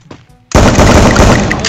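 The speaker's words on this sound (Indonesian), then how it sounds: "Oh, ini shotgun." A shotgun fires in the Free Fire video game, a sudden loud blast that cuts in after quiet, faint sounds and then rolls into a dense, sustained burst of gunfire close up.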